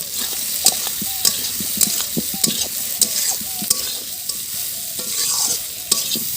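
Soybean chunks fry in browned, dried spice paste, sizzling steadily while a spoon stirs and scrapes the pan in regular knocks, close and fairly loud.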